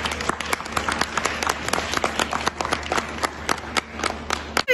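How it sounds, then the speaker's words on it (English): Audience applause for newly honored dairy princesses at a princess coronation event, a sparse round of individual claps with distinct hand slaps spread across the crowd, steady at moderate volume before cutting off at the end. "How about a round of applause?"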